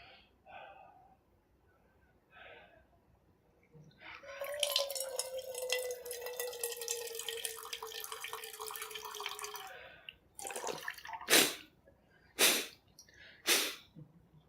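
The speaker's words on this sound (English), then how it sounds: "You saw some water come out of my mouth?" Water from a nasal rinse spills out of a person's mouth and nose in a long gurgling, bubbling stream, followed by several sharp sputtering snorts and expulsions, close and fairly loud against a quiet room.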